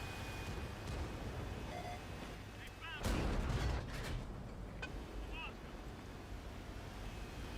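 A tank cannon booms once in an online tank battle game, a heavy blast swelling out of a constant noisy engine and wind rumble before trailing off under the ongoing din.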